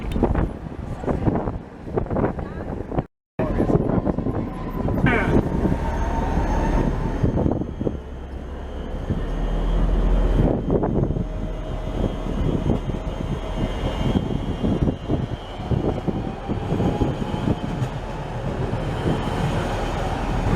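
Prague trams run past with a sustained low rumble and rolling rail noise, loud and close throughout, with a brief dropout near the start and faint squeals over the steady roar.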